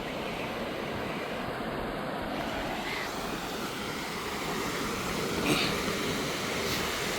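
Floodwater after a cyclone rushes steadily past a bridge, a broad continuous roar with no break, fairly distant and even in level.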